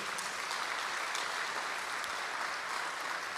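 A church congregation claps together in steady, dense applause that fills the room at an even level with no break, heard from within the crowd.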